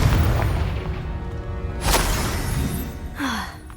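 Confringo blasting-spell explosion in Hogwarts Legacy, a deep boom and burst followed by a second whooshing impact, loud and close, with no talk.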